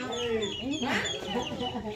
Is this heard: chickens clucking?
yes